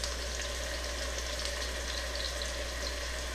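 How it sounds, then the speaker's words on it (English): Steady, dense sizzling of Guyanese katahar (jackfruit) curry mixture frying in hot oil, a continuous crackling hiss with no pauses, close and moderately loud. "that's basically just frying up the curry in the hot oil"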